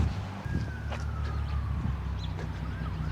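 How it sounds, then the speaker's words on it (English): Distant emergency siren with a single long wailing tone drifting slowly downward, heard outdoors under a steady low rumble and scattered nearby noises. "I hear sirens."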